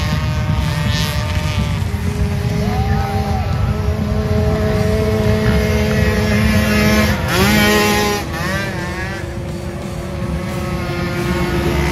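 Cars driving past during a family outing, a steady rumbling engine drone with pitch that rises and falls as they move, continuous and fairly loud with no voices.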